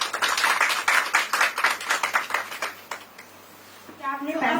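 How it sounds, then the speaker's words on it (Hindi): A meeting audience claps in a burst of several seconds, uneven hand claps close by, fading into a brief lull before a voice resumes. "तालियां।"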